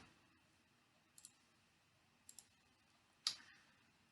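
A computer mouse clicks on an OK button in statistics software: a few faint, sharp double clicks spaced about a second apart, then one louder click, all in a quiet room with no talk.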